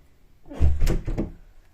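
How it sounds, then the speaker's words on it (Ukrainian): An indoor door swings open on a cold day, giving a short muffled thump and creak followed by a brief rattle, close by and fairly loud, with nobody speaking. "зараз ці двері будуть відчинені"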